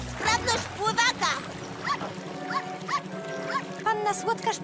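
A cartoon dog barks in a series of short, bright yelps in an animated children's Fireman Sam episode, set over background music with character voices speaking around it.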